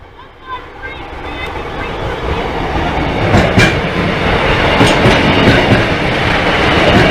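Class 153 diesel unit 153 383 rolls past a level crossing, its engine and wheels building into a steady, close rumble with rhythmic clatter and a brief tonal squeal, and a voice speaks faintly underneath.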